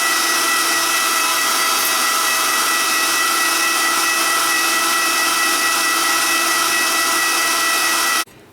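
An electric meat grinder runs steadily, double-grinding pork to break down the fat for sausage, giving a continuous loud mechanical whir that holds for about eight seconds before cutting off abruptly.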